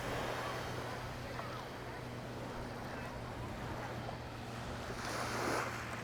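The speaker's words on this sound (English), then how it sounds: "It's the world famous MAHO Beach." Waves washing and wind blowing steadily at Maho Beach, St. Maarten, a broad continuous surf roar with gusty microphone rumble and a low steady hum, with a brief swell of louder wash near the end.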